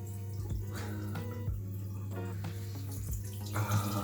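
Water runs steadily from a bathroom tap while someone washes their face with warm water and soap, a continuous close splashing stream with a low steady hum underneath.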